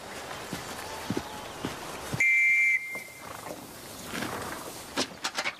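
A sharp whistle blown once to call a herd of mares and horses outdoors, a short steady tone in a quiet open setting, followed by faint hoof steps and rustling.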